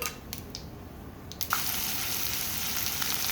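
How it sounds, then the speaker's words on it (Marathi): A few light clinks, then a sudden burst of loud, steady sizzling as chopped green chillies, curry leaves, onion, potato and raw peanuts hit hot oil with asafoetida and turmeric for kande pohe, continuing as a constant crackling hiss. "मी आता फोडणी देऊन याच्यामध्ये बारीक चिरलेली मिरची कढीपत्ता कांदा बटाटा आणि कच्चे दाणे असे घातले"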